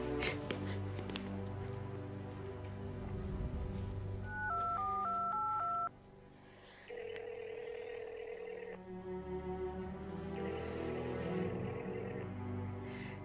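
A telephone call to a veterinarian on a Sunday going unanswered: a short series of keypad dialing tones, then repeated ringback tones with no pickup, over steady background music in an animated dog show.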